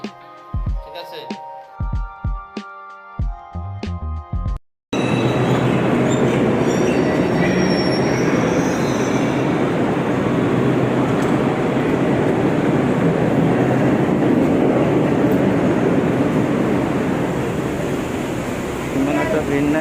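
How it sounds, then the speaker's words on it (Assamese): A Delhi Metro train pulls in and runs at speed, a loud, steady rumble with squealing wheels and rail clatter that continues without a break after a few seconds of voices and background sounds. "এয়া পিছফালে চাওক মেট্ৰ' আহি ৰেডি হৈ আছে"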